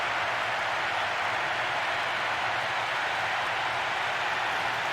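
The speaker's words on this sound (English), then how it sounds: "The capacity crowd are enjoying the goal celebration." A capacity stadium crowd cheers a goal in the PES 6 football video game, a steady, broad roar of noise that stays even and unbroken.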